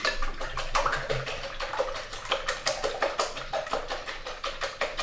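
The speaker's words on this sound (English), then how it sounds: "Now you've got a nice silicone bottomed whisk there. If you want to give that a good old whisk round." Eggs are whisked for a Spanish omelette with a silicone-bottomed whisk. Quick, rhythmic wet sloshing strokes repeat steadily throughout, close and moderately loud.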